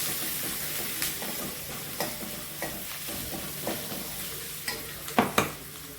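Onions sautéing in a pan for a white kurma, a steady soft sizzle with repeated spatula scrapes and stirring clinks at irregular intervals, a couple of louder knocks near the end, no talking.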